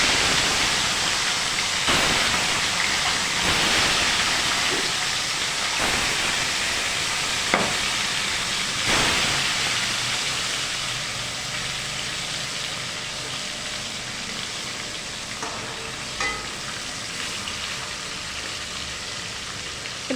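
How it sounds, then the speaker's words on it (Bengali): Pieces of tilapia fish head frying in hot oil, a steady broadband sizzle with occasional louder pops and spatters, continuous and fairly close, slowly easing in intensity. "এবার আমরা লাল করে একটু ভেজে নেব এপিট ওপিট করে।"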